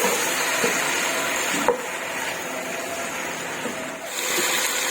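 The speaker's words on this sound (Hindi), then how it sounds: "टमाटर डालने के बाद मैं इसे थोड़ा सा पकाऊंगी ताकि टमाटर थोड़े से नरम हो जाएं।" Tomatoes cooking in a pan with garlic and ginger for a lobia gosht curry, giving a steady, close sizzle with light stirring scrapes and a brief clatter partway through.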